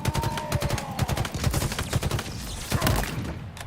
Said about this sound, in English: Stun grenade is pretty nice.